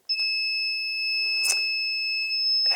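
A Quaelis 10 CO2 detector sounds its alarm: a steady, piercing high-pitched electronic tone held close and loud, with a couple of brief fainter beeps and small bursts over it.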